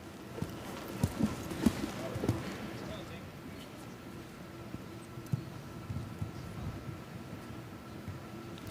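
A 16-year-old gelding moves across a five-star international show jumping arena with faint, irregular hoof thuds over a steady background hum.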